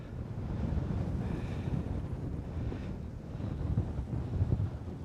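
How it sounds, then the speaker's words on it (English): Strong wind buffets the microphone in a steady, loud roar at Coney Island, New York, with low rumbling gusts throughout and a faint wash like water in the background. "Beautiful windy day, and the wind always kicks."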